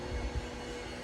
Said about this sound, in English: my neighbor thinks it's necessary to use the leaf blower right now